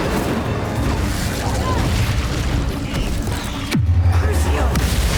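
In Hogwarts Legacy, an Incendio fire spell goes off with a roaring burst and a deep booming swell over dense, loud battle noise, with a shouted voice in the mix.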